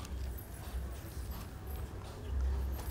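A horse's hooves clip-clop in a steady, muffled walking rhythm, faint and low, with no speech over them.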